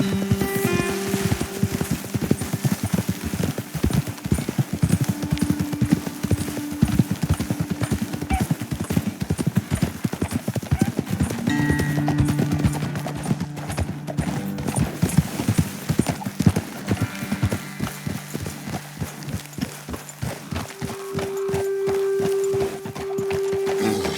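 Horses' hooves clip-clop steadily at a walking pace on a trail in the Red Dead Redemption 2 video game, with continuous rhythmic footfalls under a musical score for over twenty seconds.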